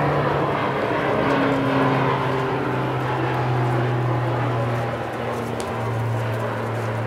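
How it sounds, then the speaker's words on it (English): A propeller airplane passing low overhead, a loud droning rumble that swells and slowly fades, with faint bird sounds in the background. "I have this problem with these airplanes and it's so loud here."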